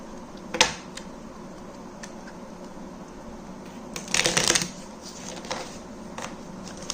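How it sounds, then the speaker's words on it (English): Crisp riffling bursts of shuffled cards, a sharp flutter near the start and a longer one midway, with small clicks between, close and fairly quiet. "So let me have a spectator shuffle."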